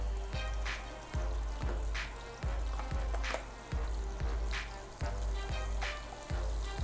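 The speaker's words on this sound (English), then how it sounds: "I'm gonna add a little bit of some soy-free butter, and I'm gonna use that to fry our eggs" Soy-free butter melts and sizzles in a hot pan before eggs are fried for chicken fried rice, a loud, close, steady crackle with a regular low thump recurring about every half second.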